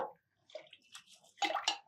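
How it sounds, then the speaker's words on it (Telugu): Water sloshing and dripping faintly as rice and moong dal are washed, in soft, intermittent splashes with a slightly louder pair near the end. "బియ్యం పెసరపప్పు 2 కడిగేసి పోసేయండి"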